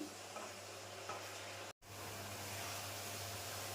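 A coconut and jaggery mixture stirred in a pan for rice-flour pitha gives a faint, steady hiss and scrape, cut by a brief silent gap midway before resuming.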